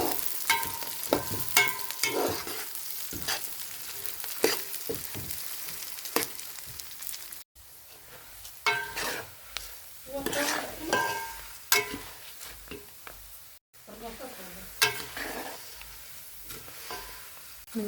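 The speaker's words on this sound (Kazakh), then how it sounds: "Міне шыжғырын қырап қалған майымызға бидайымызды салып қуыратын боламыз." Wheat grains frying in rendered fat in a pan, stirred continuously, giving a steady close sizzle with frequent scraping and clattering strokes throughout.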